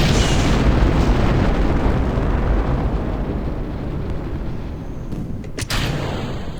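An Aerojet rocket motor ignites and roars continuously at launch, a loud broadband rumble that holds steady for several seconds and tapers slightly, with a couple of brief crackles toward the end.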